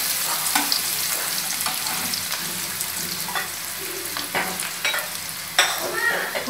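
Chopped onions frying in a pan are stirred with a utensil, giving a steady close sizzle broken by scraping strokes and a few sharper knocks against the pan, with no talking.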